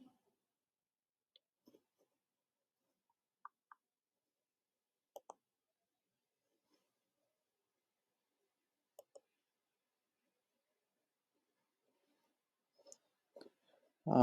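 Sparse, isolated mouse clicks, single and paired, spaced several seconds apart in a quiet room, with a voice starting at the very end.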